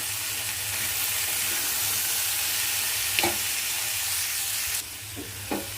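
A paste of ground green chili, coriander, ginger and coconut sizzles steadily in a pressure cooker, a constant frying hiss with a few faint scrapes of stirring.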